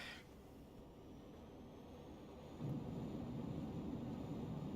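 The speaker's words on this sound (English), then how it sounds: "Afterburners have lit." Jet engine roar from aircraft afterburners throttling up on a runway in the Juno: New Origins video game, a steady broadband rumble that swells and grows louder partway through.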